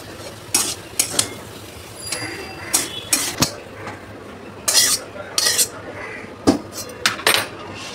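Potato patty filling being stirred in a pan, repeated scraping and clinking of a metal utensil against the pan in irregular short bursts.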